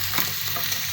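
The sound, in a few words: mushrooms and onion frying in a pan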